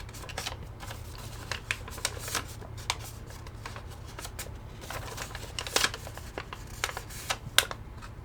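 Paper sides being pinched and creased while folding an origami ribbon bow, heard as soft crinkles and crisp little crackles in an irregular flurry, close and fairly quiet.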